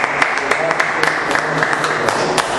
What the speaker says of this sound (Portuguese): E que as palmas louve a Deus